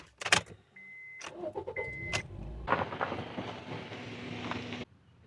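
A GE8 Honda Fit with a DIY lift kit starts up after some door and key clatter, its engine settling into a steady idle and drive hum heard from inside the car before cutting off.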